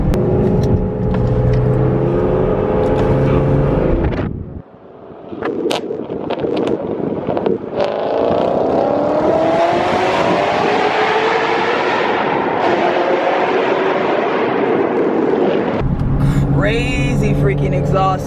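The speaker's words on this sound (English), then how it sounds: "Crazy freaking exhaust noise is coming from this beautiful V8 RS4 right here." Exhaust of an Audi RS4 V8, loud and close, rising and falling as the engine revs hard, with a short dip in the middle and heavy wind buffeting the microphone.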